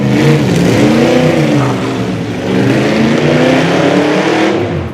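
A car engine drives steadily through a short test ride, holding a loud, continuous mid-pitched drone with gentle shifts in pitch and no voices over it.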